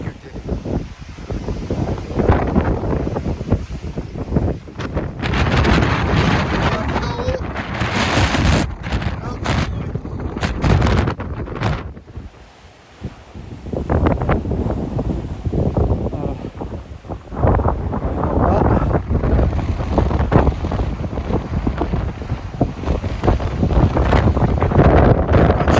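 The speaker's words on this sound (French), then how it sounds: "Il y a beaucoup de vent." Strong gusts batter the microphone on a steep mountain trail on Sainte-Victoire, loud rumbling buffets that surge and drop with a brief lull midway, while a person talks amid the roar.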